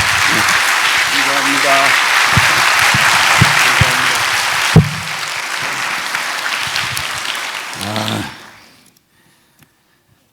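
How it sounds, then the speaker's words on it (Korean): A Korean church congregation at a Sunday service gives a strong round of applause welcoming a missionary. The clapping stays loud and sustained before tapering off into near silence, and a voice speaks briefly over it. "우리 김영희 선교사님 나오실 때 힘찬 박수로 맞이하겠습니다."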